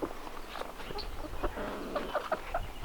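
Hens clucking and murmuring in short, scattered bursts at close range, with soft rustling around them and no voices.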